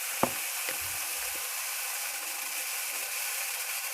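Spices are stirred in a pan for lal palang paratha, with a few quick scrapes and clicks of a utensil at the start over a faint, steady sizzle.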